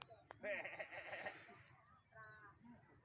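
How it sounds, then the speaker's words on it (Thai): Sheep in a pasture give a loud, wavering bleat up close, then a second, softer bleat follows after a short pause. "ได้ยินเสียงแกะ"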